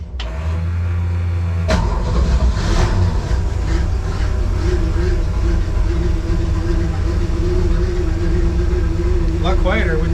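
An inboard engine on a restored wooden boat cranks with a sharp jolt and catches, then settles into a loud, steady idle that keeps running under faint talk.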